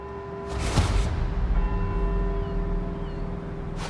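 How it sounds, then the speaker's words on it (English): Church bells ring from the Edinburgh bell towers in Forza Horizon 4, a sustained ringing tone with a louder strike near the start, heard over a low steady background hum. "let's see if we can visit every bell tower in Edinburgh and get back here before they all stop ringing"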